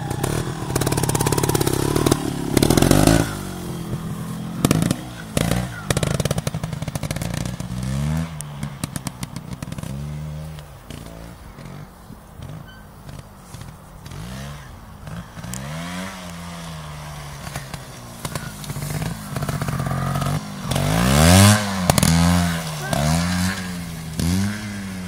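A GasGas 280 trials motorcycle engine blips and revs in short bursts, rising and falling with clattery bike noise throughout, close and fairly loud, during a crash attempt on rough ground; voices are briefly heard.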